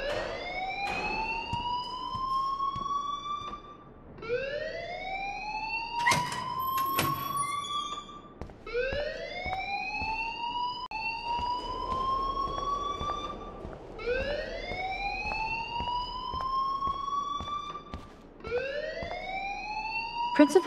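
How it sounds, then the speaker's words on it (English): A school alarm rings in the game Life is Strange. It is a loud electronic siren that sweeps upward again and again in repeating rising wails, running on steadily with faint background sounds under it. "please turn off that alarm since that's your job."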